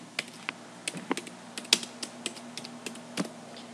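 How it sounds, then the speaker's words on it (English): Someone types a name on a computer keyboard, a steady run of crisp, close key clicks with irregular spacing, some strokes louder than others, and no talking. "Next, type your name"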